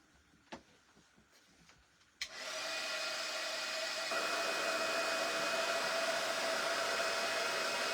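A hair dryer switches on with a sudden rush and blows a steady, loud whirring stream of air, drying something still wet and sticky, after a few faint clicks and handling sounds.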